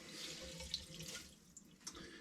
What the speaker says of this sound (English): I take the washcloth, wring it out